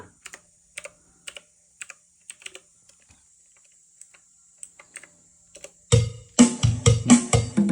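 Fingers tap out scattered single keystrokes on a computer keyboard, close and crisp with pauses between them, then a louder flurry of several clattering hits near the end.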